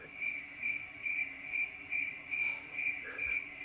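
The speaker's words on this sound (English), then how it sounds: "I'm going to play the Crickets" A crickets chirping sound effect gives a steady, high, pulsing trill that repeats in regular bursts, faint and alone with no talk.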